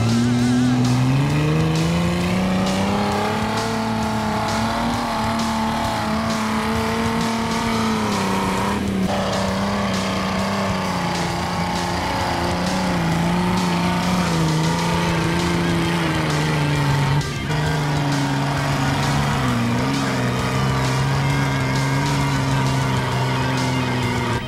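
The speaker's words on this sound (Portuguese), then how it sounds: "Saiu no trator." A tractor engine drones loud and steady while towing a vehicle off an off-road jeep club trail event course, its pitch rising and falling slightly throughout with no clear speech.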